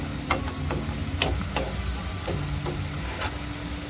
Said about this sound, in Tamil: வெங்காயம் கொஞ்சம் நல்லா ப்ரௌன் ஆகட்டும், கலர் கிளறி வச்சுக்கலாம்.